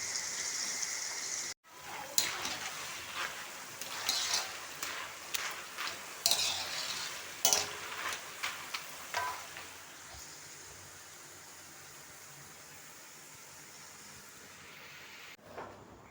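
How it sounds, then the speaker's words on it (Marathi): Jackfruit bulbs deep-frying in hot oil, with a steady sizzle under intermittent clinks and scrapes of stirring for the first ten seconds, then a softer, even bubbling hiss on its own. "आता हे मी तिसऱ्या बॅचचे गरे टाकते आहे. तर असे मी हे सगळे गरे तळून घेते."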